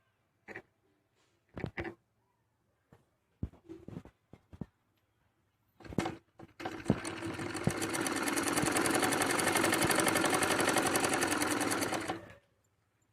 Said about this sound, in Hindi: इसको यहाँ से पक्की सिलाई करके लेना है